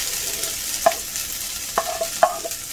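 Shelled corn kernels fry alongside toasted chiles for esquites. The pan gives a close, constant sizzle, with a few distinct stirring clicks and scrapes spaced across it.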